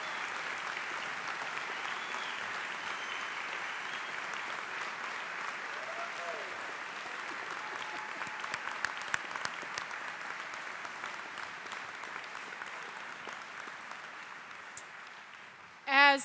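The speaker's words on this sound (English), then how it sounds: "Let's have a round of applause." Audience applause at a West Virginia University School of Medicine commencement for new graduates, a faint, steady, distant patter of clapping filling the hall for a long stretch.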